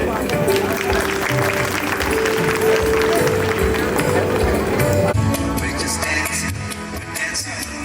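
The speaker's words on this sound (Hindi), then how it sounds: "तालियां बजाकर इन बच्चों का उत्साहवर्धन करते रहिए।" An audience applauds children at a school annual function: a dense, steady patter of clapping from a crowd, with a voice talking over it.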